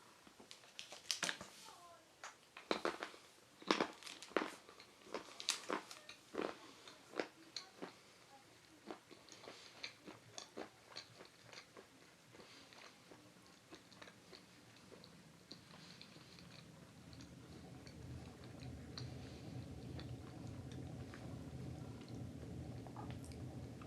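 A bar of fairafric 80% dark chocolate is snapped and chewed close up, giving crisp cracks and a series of irregular crunchy bites that fade into softer, steadier chewing.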